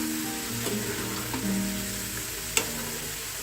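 Food sizzling in a frying pan with a soft, constant crackle, a few faint clinks and one sharp tap of a utensil, under a low steady hum.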